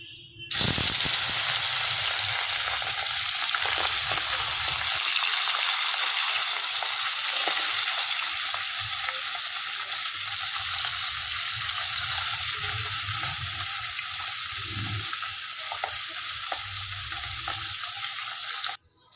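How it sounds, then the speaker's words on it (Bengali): Steady, loud sizzling of small puti (pool barb) fish frying in a hot wok, continuous hiss with faint clinks and stirring, no talking. "পুঁটি মাছগুলি আগে ভেজে তুলব"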